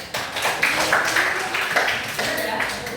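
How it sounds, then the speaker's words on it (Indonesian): Students clapping in a classroom maths lesson, a short burst of overlapping claps heard close and fairly loud, with some voices mixed in. "Oke, tepuk tangan."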